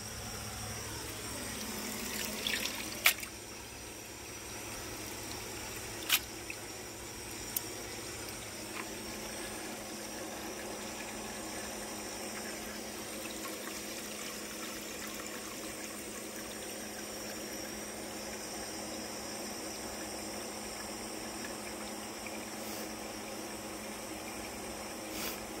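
A new 2022 Kohler Embrook toilet running a full flush: a steady rush of water draining and refilling continues for about twenty-five seconds, with a few faint clicks near the start. The sound stays fairly quiet and even, with no talking.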